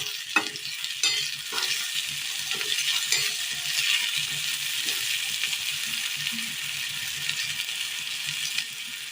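Food frying in a pan is stirred in Kerala-style home cooking, a steady close sizzle broken by irregular scrapes and knocks of the spoon against the pan, with no talking.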